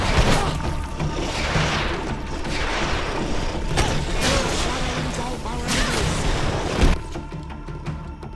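Video game gunfire and booms burst repeatedly over a busy mix of mechanical effects and whooshes, with a louder blast near the end.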